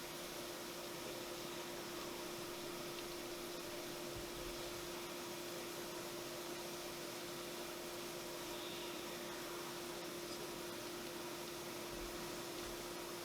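A milling machine set up as a lathe takes a facing cut with coolant running, giving a steady, even hiss and whir with a constant tone throughout, no talking.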